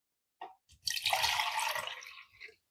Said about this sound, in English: I'm just going to pour this water in.